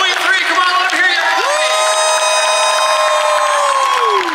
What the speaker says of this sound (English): let's give a big round of applause for Mr. Tommy Lee Wallace, Mr. Dick Warlock, Stacey Duncan, Tom Atkins